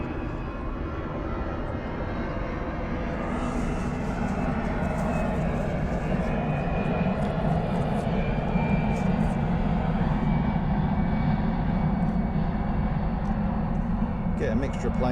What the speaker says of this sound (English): taking off. That's a jet.